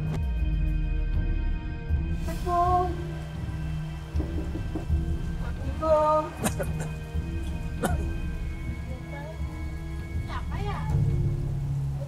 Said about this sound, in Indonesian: cuaca nggak bersahabat, hujan deras di situ